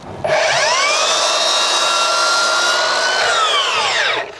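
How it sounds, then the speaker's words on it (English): A mitre saw cuts through a flat architrave board, a loud whining motor that spins up, holds a steady pitch through the cut for about four seconds, then winds down, heard alone and close. "Now I'm using a flat board so I can actually mitre the backs with the saw set in the same direction"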